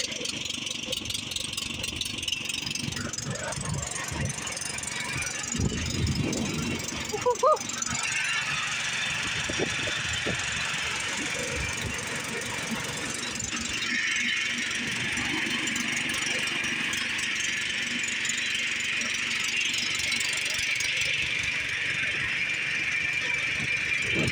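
A vehicle engine strains in first gear under a full load with a steady, mid-pitched drone and some squealing, while voices are heard now and then.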